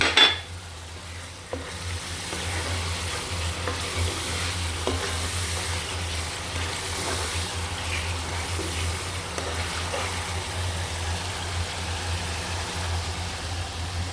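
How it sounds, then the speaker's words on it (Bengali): Snakehead fish with tomato sautés in a pan for a potato fish bhuna: a utensil clatters at the start, then a continuous close sizzle runs under repeated scraping stirs, with no voices. "ভালোভাবে কষিয়ে নিতে হবে। আমি দিয়ে দিচ্ছি ছোট্ট একটা টমেটো"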